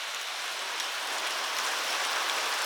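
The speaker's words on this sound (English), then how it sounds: "And now it's pouring." Heavy rain pouring steadily on a farm, a dense, even hiss of drops with no breaks or voices.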